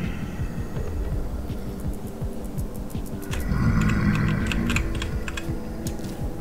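Rapid, frantic mouse and key clicking during Vintage Story play, dense irregular clicks over a low game hum and throbbing rumble, with sharper clicks clustering in the second half.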